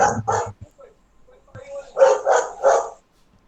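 A dog barks close by in two quick bursts, then after a short pause lets out three louder, evenly spaced barks, with faint whines in between.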